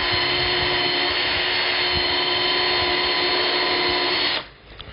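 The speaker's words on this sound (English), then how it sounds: "Just line them up and then drill the hole with the countersink." A Bosch power drill with a countersink bit whines steadily and loudly close by as it bores a hole through lined-up chicken coop parts, then cuts off abruptly near the end.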